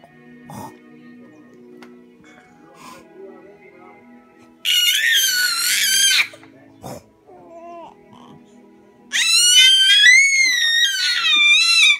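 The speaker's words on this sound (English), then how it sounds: "Why are you yelling?" A six-month-old baby gives two loud bursts of high-pitched yelling and squealing. Quieter babbling and an adult's voice are heard in the softer stretches between the bursts.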